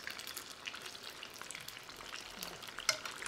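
Coated food fries until crispy in hot oil, giving a soft, steady crackle and sizzle with small pops and one brighter snap near the end, fairly quiet and with no talking.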